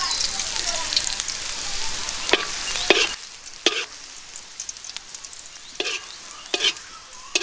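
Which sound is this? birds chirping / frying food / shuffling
frying food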